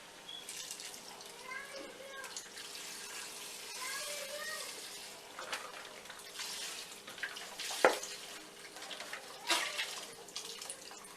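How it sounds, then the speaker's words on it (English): Water is poured into a pot of chicken stock for Caldo Gallego soup: a steady, close splashing rush with a brief clink partway through. "after that you're gonna add 1 to 2 cups of water"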